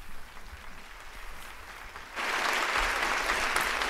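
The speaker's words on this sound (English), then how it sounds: "I'm going to play you an applause as soon as I can find it" An applause sound effect played on a talk show, starting after a quiet stretch of low background noise and jumping abruptly to a loud, steady crowd clapping that continues to the end.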